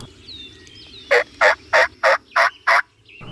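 A wild turkey gobbles six times in a quick, evenly spaced run, loud and fairly close, over quiet outdoor background with faint bird chirps.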